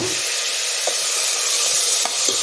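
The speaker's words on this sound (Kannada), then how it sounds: "ಇವಾಗ ಇದನ್ನು ಸ್ವಲ್ಪ ಚೆನ್ನಾಗಿ ಹುರ್ಕೊಳ್ಳೋಣ" Chopped vegetables and puréed tomato fry in a pan for biryani, giving a constant loud sizzle with a few brief clicks of stirring.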